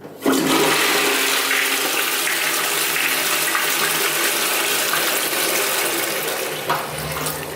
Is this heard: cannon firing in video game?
no